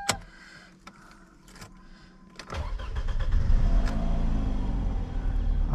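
A 2010 Toyota Camry starts with a turn of the key: clicks and a jangle of keys give way to the starter cranking, then the engine catches and settles into a loud, steady idle close by.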